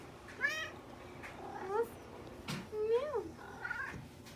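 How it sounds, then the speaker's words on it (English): A cat meows several times in a row, clear rising and falling calls with short pauses between them, close and fairly soft indoors, with no talking. "the cat will be doing the outro today"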